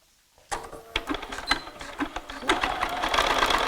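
Sewing machine stitching a seam for foundation paper piecing, starting after a brief silence and running as a close, steady mechanical whir with rapid needle clatter that builds in speed.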